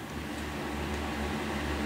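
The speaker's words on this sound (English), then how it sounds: "Excuse the fan noise." A fan in a woodworking workshop gives off a steady, low whooshing hum, constant and moderately faint, with no other sounds on top.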